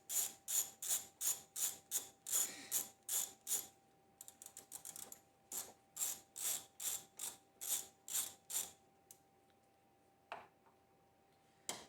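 Ratchet wrench turning rusty bolts on a 2003 Acura CL Type-S, a close, loud train of rapid clicking bursts repeating steadily, with a short pause and a few isolated clicks at the end.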